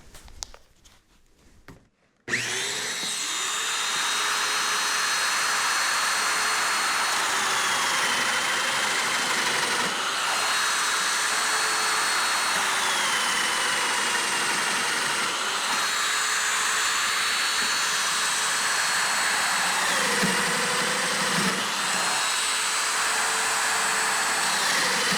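Festool Domino DF 500 Q joiner cutting four mortises, a loud steady high-pitched motor whine that starts abruptly after a brief quiet moment and runs continuously, with slight pitch dips as each plunge cut is made.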